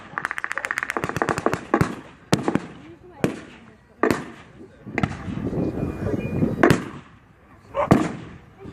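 Mortar explosions at a World War 2 reenactment. Sharp blasts and bangs recur irregularly, some in quick crackling bursts and others spaced apart, with someone commentating over them.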